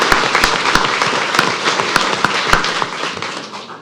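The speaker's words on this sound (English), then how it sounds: "we'll go ahead and applaud Mr." Clapping from an audience at a city council meeting in El Centro, a dense steady patter of many hands with sharper individual claps popping through, fairly close and sustained throughout.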